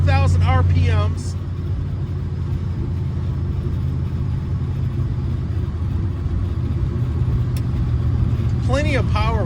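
A 1960 Chevrolet El Camino engine holds just over 2,000 RPM on the road, a steady low rumble running throughout beneath a voice at the start and end.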